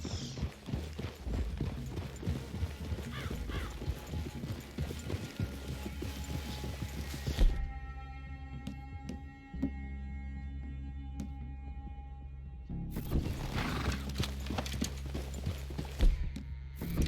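Horses walking in the Red Dead Redemption 2 video game, with steady clip-clop hoofbeats and faint creaking tack, pausing midway before the hooves resume.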